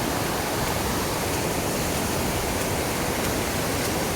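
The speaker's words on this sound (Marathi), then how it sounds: "इथं खळखळाट भरपूर पाण्याचा आहे" Water rushes loudly and steadily at Savat Sada waterfall near Chiplun in the Konkan, a dense unbroken roar with no voices.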